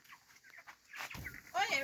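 Chickens cluck and fowl calls rise near the end of a short stretch, heard close under a voice speaking in a hot farmyard setting.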